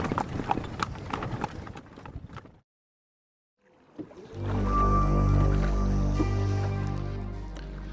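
A horse-drawn cart around Mandalay, Myanmar, with hooves clip-clopping in a close, irregular rhythm for a couple of seconds. A brief silence follows, then a loud, sustained low droning tone.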